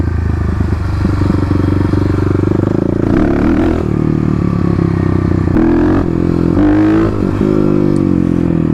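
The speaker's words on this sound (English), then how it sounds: "You can see just from a little bit of a power wheelie that the wheel is coming up a lot higher." A Kawasaki KLX250 dirt bike pulls a power wheelie off-road, its single-cylinder engine droning loud and close, then rising and falling through several throttle surges with rattling bumps and no voices.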